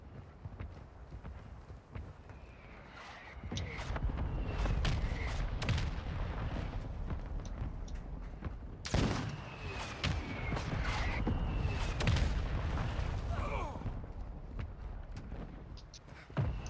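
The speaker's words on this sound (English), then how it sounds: "Hostile mortar strike near your position." Mortar strike explosions in the Call of Duty video game, heavy booming blasts and rumbling impacts going off repeatedly over continuous battlefield noise, with a sharp loud burst near the middle.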